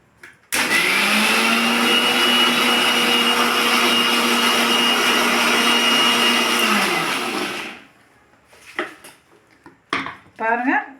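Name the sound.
grinder grinding soaked urad dal for vada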